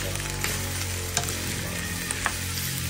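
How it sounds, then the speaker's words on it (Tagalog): Meat sautéing in its own rendered fat crackles and sizzles steadily at close range, with a few sharp pops and no talking. "parang ginigisa natin siya sa sarili niyang mantika"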